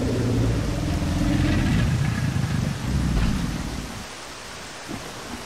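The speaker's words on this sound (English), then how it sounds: "I know, it's a little wet out here right now, ain't it? It's raining just a little bit." Steady outdoor rain with rolling thunder, a loud low rumble that swells and then fades toward the end, leaving the patter of rain, with no talking.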